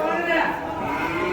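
Bull lowing at the Vaniyambadi cattle market, one loud, close, drawn-out moo filling the whole moment.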